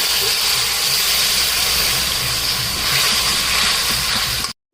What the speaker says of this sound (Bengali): তো এই মশলাতে আমি ডালগুলো ভেজে দিচ্ছি